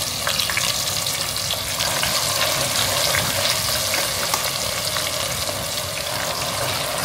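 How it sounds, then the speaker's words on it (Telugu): Marinated mutton frying in a hot pan gives a loud, steady, close sizzle that crackles continuously without pause, and no one speaks over it. "మన కలిపి పెట్టిన మటన్ వేసుకుంటున్నా"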